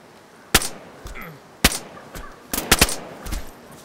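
Gunfire rings out in a video game, with several loud separate shots and a quick burst of three or four, spread across a few seconds against a quiet background.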